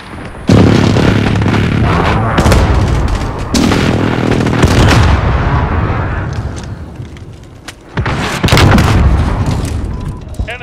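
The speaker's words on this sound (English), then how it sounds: "Enemy precision airstrike." Precision airstrike explosions in a shooter video game: several loud, heavy booms in close succession, each with a long rumbling tail, separated by brief lulls.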